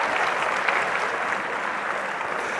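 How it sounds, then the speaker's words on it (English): An audience at a keynote of a National Head Start 60th anniversary conference claps in steady, dense applause that carries through from start to finish. "Nice, give yourselves a round of applause."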